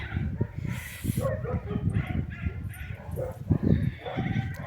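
Several dogs bark and yip in close, overlapping bursts, with a voice talking alongside them.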